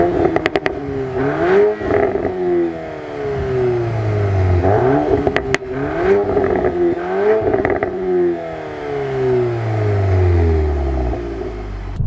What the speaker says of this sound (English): this car has got the Akrapovic exhaust, which sounds